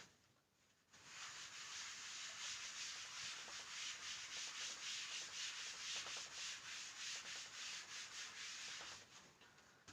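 A duster rubs written formulas off a classroom board with steady, fast back-and-forth scrubbing strokes up close. It runs for several seconds after a short quiet start, then stops.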